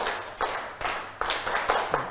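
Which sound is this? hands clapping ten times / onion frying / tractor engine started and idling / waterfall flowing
hands clapping ten times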